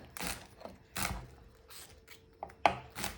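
Knife slicing collard greens thinly on a cutting board, several crisp, separate cuts spaced irregularly, close and fairly quiet.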